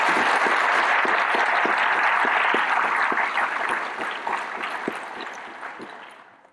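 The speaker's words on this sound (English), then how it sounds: "So a big round of applause to each and every one of you." Applause from the audience at a university information school's graduate recognition ceremony, a dense wash of clapping with a few louder individual claps cutting through, gradually thinning and fading toward the end.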